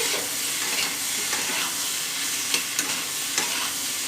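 Vegetarian papaya curry sautéing and being stirred in a pan, salted and cooked down before serving: a steady, close sizzle with occasional soft scrapes of the spoon, with no talking.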